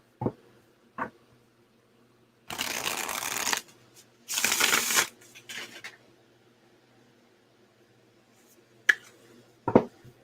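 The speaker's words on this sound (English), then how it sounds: "Okay, one last shuffle here." Two quick riffling bursts of tarot cards being shuffled, close and crisp, followed by a few faint taps and clicks in an otherwise quiet room.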